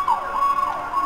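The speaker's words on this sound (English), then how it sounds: "Oh no, it's a fire truck." A fire truck siren in Minecraft, its loud wailing tone sweeping up and down in a steady rise-and-fall pattern, heard close and alone.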